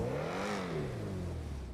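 Stirling GT sports car engine in GTA Online revving up and easing back down in a single smooth sweep, a close, steady mechanical growl with no voices.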